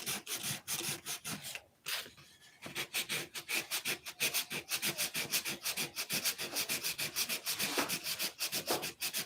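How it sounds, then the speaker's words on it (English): Rhythmic sanding on an airplane's surface, steady back-and-forth scrapes repeating quickly, close and fairly loud, with a brief pause early on. "You gotta stop sanding there"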